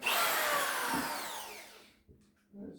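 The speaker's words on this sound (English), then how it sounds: "I'm gonna drill the 3 holes using a 1/2 inch masonry bit, and I'm gonna go in around 8-9 inches." Hammer drill boring a hole with a 1/2 inch masonry bit, a loud close whine that starts strong, slowly drops in pitch and fades out, followed by brief quieter knocks.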